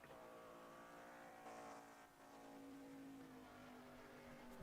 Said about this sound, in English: As he burns it out on the front straightaway